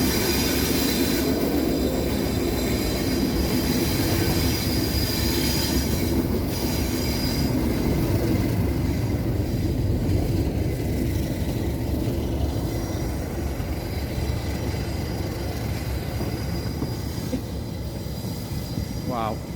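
A big train sets off and rolls across a bridge at Barmouth in cold weather, a steady continuous rumble of wheels and carriages with squeals near the end, heard from a distance outdoors.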